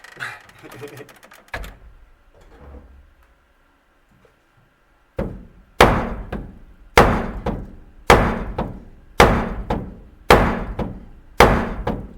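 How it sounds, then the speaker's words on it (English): Hammer blows on a part of a 1937 Buick Roadmaster, about seven sharp, loud metallic strikes at a steady rhythm of roughly one per second, with faint knocking and talk before them. "Hit it with the hammer some more."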